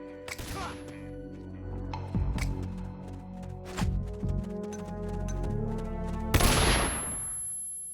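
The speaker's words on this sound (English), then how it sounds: "We're being shot at." Gunfire in the Metal Gear Solid Peace Walker video game: several sharp, loud shots and short bursts crack out over a sustained musical drone, ending in a heavy blast.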